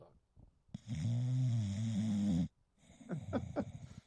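A sleeping dog snores close by: one long, rumbling inhale followed by a series of softer, choppy snorts, with nothing else audible.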